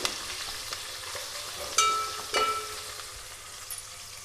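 Onions frying in a pan until golden for a long brinjal curry give off a steady, soft sizzle. A couple of sharper clatters from stirring stand out, and no one speaks.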